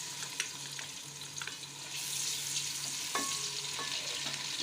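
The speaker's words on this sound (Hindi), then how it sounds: "सबसे पहले हम घी में प्याज डालेंगे।" Onions hit hot ghee in a pan and break into a sudden, loud, steady sizzle, with a few spoon clicks as they are stirred, close and continuous.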